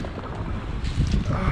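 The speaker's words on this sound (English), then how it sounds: "it's definitely windy out here today" Wind gusts outdoors rumble against the microphone in a low, continuous buffeting roar that swells louder toward the end, with no clear talk.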